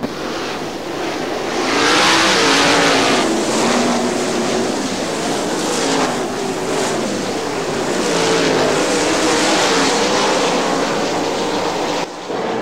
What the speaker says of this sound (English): Al Schmidt coming on the throttle hard, pulling a wheelie at the start.